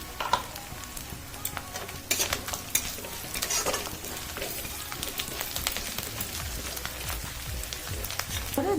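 Prawn malai curry masala with Kashmiri chili powder sizzles and fries in a pan, with intermittent stirring and scraping clatter over a steady crackle, close and moderately loud.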